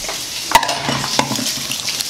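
Sour cream is whisked in a bowl, a quick scraping stir with a sharp utensil knock at the start and a second tap midway, close and fairly loud with no talking.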